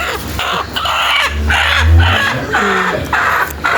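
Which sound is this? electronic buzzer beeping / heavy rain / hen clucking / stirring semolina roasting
hen clucking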